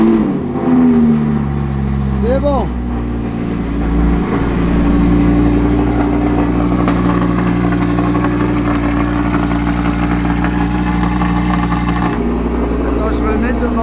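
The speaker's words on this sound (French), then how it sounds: "J'espère qu'elle va démarrer, hein, parce que ça fait quand même quelques semaines qu'elle n'a pas été démarrée, la voiture." A car with an open-valve exhaust, started cold after sitting unused for several weeks, holds a loud, steady low idle throughout, while someone speaks briefly over it.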